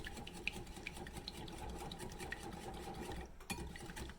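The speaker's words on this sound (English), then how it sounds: "now I'm going to whisk the eggs" A wire whisk beats eggs in a bowl for banana bread, making a steady, rapid scraping and clinking rhythm that stays close and fairly quiet throughout, with no talking.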